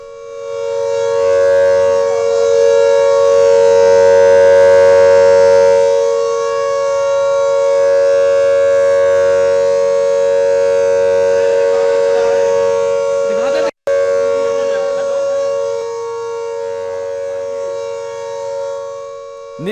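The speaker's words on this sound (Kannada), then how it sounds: "ನೀವು ಕೂಡ ಚಂಡೀಗಢದಲ್ಲಿ ಮೊಳಗ್ತಾ ಇರುವಂತಹ ಸೈರನ್ ಶಬ್ದವನ್ನು ಕೇಳಿಸ್ತಾ ಇದ್ದೀರಿ" A civil defense air raid siren sounds over Chandigarh during a high alert, a loud steady wailing tone holding for nearly twenty seconds with a brief cut partway through.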